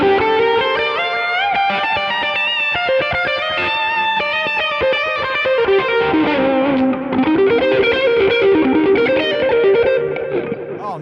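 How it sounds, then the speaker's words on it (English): Electric guitar played through a Strymon pedal set to dual delay, with overlapping fluttering repeats that blur into a reverb-like wash, as a continuous melodic line with sustained notes and chords. "instead of using a reverb, use a dual delay"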